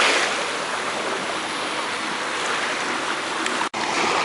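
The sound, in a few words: waves at an empty beach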